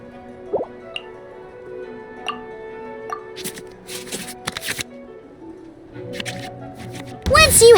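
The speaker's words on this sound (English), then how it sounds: "we can select any number of cards in our hand to shuffle back into the draw pile" Digital card-shuffle effects in the Genshin Impact card game as cards return to the draw pile: soft scattered clicks and light swishes, ending in a louder, denser flurry of shuffling at the close.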